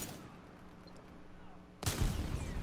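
A satchel charge in Titanfall 2 is shot and detonates: a sudden loud, broadband explosive burst cuts in after quiet low game ambience and rumbles on to the end.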